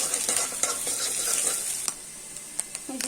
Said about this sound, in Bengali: এই জন্য এখন একটু ডিমের স্ক্রাম্বল করে নিব।